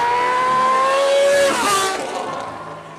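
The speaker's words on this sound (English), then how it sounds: "The Honda CBX has a sound all unique to itself, and if you've never heard it, please take a listen, crank up your speakers." A Honda CBX motorcycle engine screams loudly at high revs, its pitch climbing and then dropping as the note sweeps past and fades slightly.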